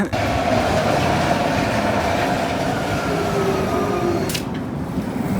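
A train riding on the rails, heard from inside as a loud, continuous rumble with faint wheel squeal and a steady rolling roar throughout.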